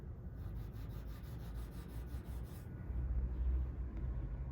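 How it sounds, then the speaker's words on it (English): A buffing pad rubs over wax fill pressed into a nail hole in MDF trim, giving a close, steady scrubbing with rhythmic back-and-forth strokes that get a little heavier and lower toward the end. "And then buff with the buffing pad."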